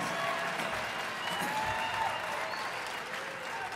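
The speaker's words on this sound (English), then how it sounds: "I defy everyone who just clapped to name the song right now" Scattered applause from a small live audience at a solo piano show, a brief smattering of clapping that stays steady and moderate throughout with no music.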